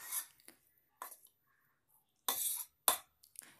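A spoon stirs mango rice in a pan, giving a few short, separate scraping and clinking strokes at close range with quiet gaps between them.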